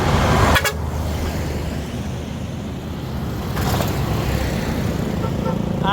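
Trucks roll across a bridge in a continuous heavy rumble of traffic, with short horn toots near the start and again toward the end.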